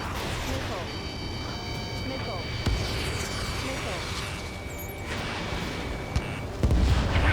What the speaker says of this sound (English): The artillery fire sent a number on my hearing.